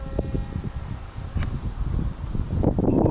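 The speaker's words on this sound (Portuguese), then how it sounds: "Ventando bastante." Strong morning wind buffets the microphone outdoors at a field where an electric model plane is flown, a constant low rumbling roar with gusts growing stronger toward the end.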